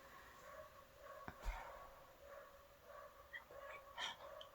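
Dogs barking close by, a few short sharp barks and yips scattered over several seconds against a steady low background hum.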